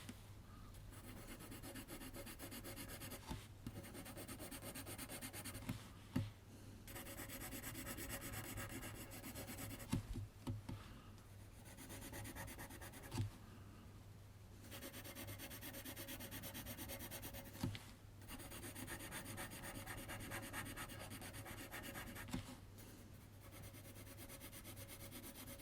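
Pencil shading on paper while drawing a teddy bear: continuous close scratchy rubbing strokes in steady bursts, broken by brief pauses and occasional light taps, with no talking.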